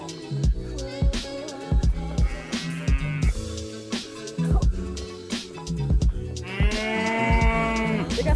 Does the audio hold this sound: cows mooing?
yes